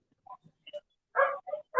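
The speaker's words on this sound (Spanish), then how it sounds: "hay un perrito ahí que está." A small dog barks in the background of a video call, giving a few scattered soft yips and then several sharper, louder barks in quick succession, with no talking.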